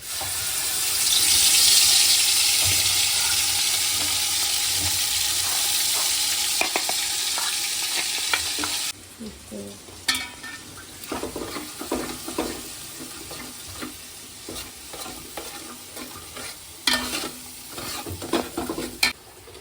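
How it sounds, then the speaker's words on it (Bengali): Ginger-garlic paste hitting hot oil seasoned with whole garam masala and bay leaves, a loud steady sizzle that drops off after a few seconds into quieter frying with intermittent scraping and stirring of a spoon in the pan. "তেলটা হয়ে গেছে এবার আমি এই পেস্টটা পুরোটা দিয়ে দেবো"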